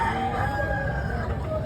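A rooster crows at a chicken expo in Tabunok, Talisay, Cebu, one sustained crow over crowded, noisy background.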